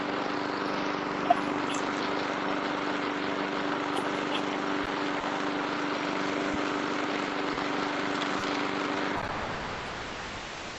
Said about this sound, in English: That would be the lawnmower happening there.